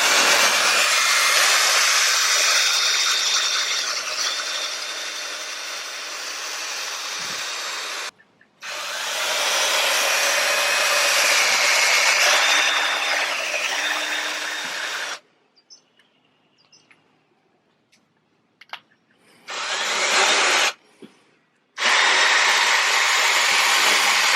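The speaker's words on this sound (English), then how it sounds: "putting the screws in" A power drill drives screws into wooden railing boards being anchored to concrete, whirring in long loud bursts separated by short pauses and quiet stretches, with no voices.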